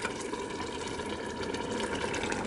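Cooked urad dal, pressure-cooked earlier, is tipped into a pan of masala, giving a steady wet, sloshing pour of liquid with no talking.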